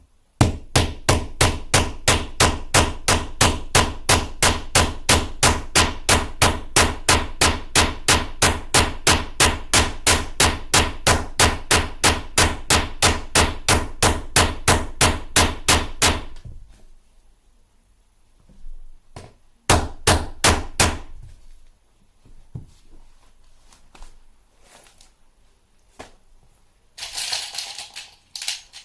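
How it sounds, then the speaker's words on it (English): Someone drives metal threaded inserts into the holes of an IKEA wardrobe panel with a hammer, landing a long, fast, even run of sharp metallic blows, then a pause and a few short clusters of strikes. "I'm essentially putting threading into these holes by hammering a piece of metal into place"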